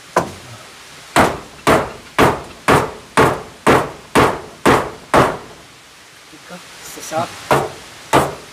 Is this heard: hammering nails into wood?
yes